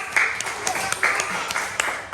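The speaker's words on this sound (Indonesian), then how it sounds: "Oke, tepuk tangan untuk kelompok." A classroom of fifth-grade pupils claps for a presenting group, a short burst of scattered, uneven hand claps with a few sharper individual slaps standing out, moderately loud and close.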